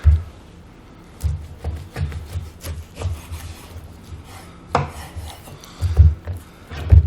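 A knife scrapes and saws through beef short ribs, trimming off excess fat in short, repeated rubbing strokes on a board, close and fairly quiet with irregular pauses between cuts.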